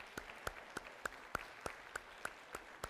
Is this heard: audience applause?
yes